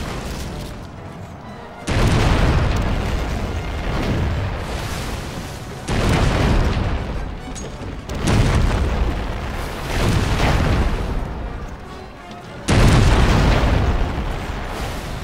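Heavy cannon fire and explosions pound a ship in the strategy game Anno 1404, with loud booming blasts that arrive as repeated sudden onsets over a sustained rumbling roar.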